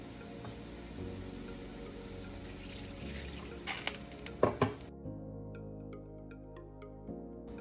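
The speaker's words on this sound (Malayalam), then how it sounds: "ഇതിലേക്ക് നമുക്ക് കുറച്ച് വെള്ളം ചേർത്ത് മാറ്റി വെക്കാം" Water added to a hot pan of sambar spice mixture, a soft stirring and sizzle that swells into a brief pour and splash, then drops to near silence with faint clinks.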